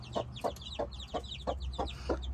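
Chickens cluck in a quick, regular series of short calls, close by, over a low rumbling background with no talk.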